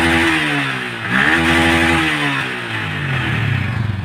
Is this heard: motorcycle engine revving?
yes